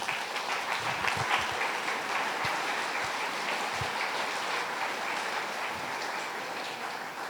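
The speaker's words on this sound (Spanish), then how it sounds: "Denle un aplauso a nuestro Rey," A church congregation applauds during a Sunday Spanish-language service, a steady, dense wash of clapping that carries evenly throughout at moderate level.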